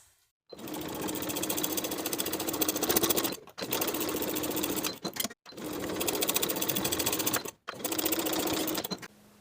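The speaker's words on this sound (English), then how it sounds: "we're going to top stitch these seams on the panel side" A sewing machine topstitches seams on a weekender bag's side panel in three long, fast, steady runs, each stopping briefly between passes; the motor and needle rattle sit close and clear, with no voices.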